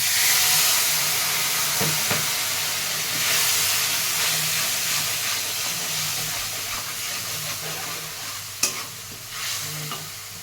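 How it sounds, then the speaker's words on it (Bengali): Turmeric and a splash of water hitting a hot pan give a steady, close sizzling hiss with stirring throughout, plus a sharp clink near the end. "পরিমাণ মতো হলুদ, এক ফোঁটা জল দিয়ে দেবো।"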